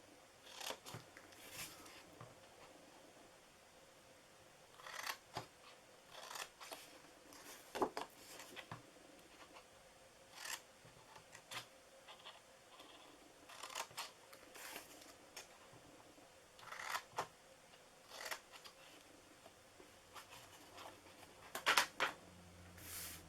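Scissors cutting the bottom piece of a paper window treat box, giving repeated short crisp snips spaced a second or two apart at a quiet, close level, with no voices.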